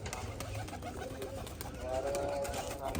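Soft pigeon cooing rises near the end over a steady rustling background, with low murmuring notes throughout.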